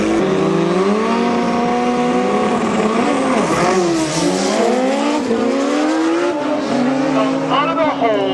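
Drag racing motorcycles launch off the line at a dragway on a quarter-mile run, loud rising engine howls sweeping up in pitch as they accelerate away, with crowd or announcer voices mixed beneath.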